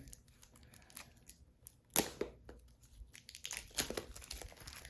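Soft crinkling and tearing of thin plastic wrap being pulled off a tarot card deck by hand, with a couple of sharp rips among quieter rustles, close by and fairly faint.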